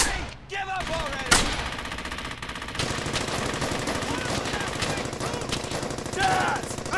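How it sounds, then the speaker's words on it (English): Rapid machine-gun fire crackles almost continuously in a Brothers In Arms: Hell's Highway firefight, loud and dense, with shouted voices breaking in now and then. "I need suppressing fire on that MG!"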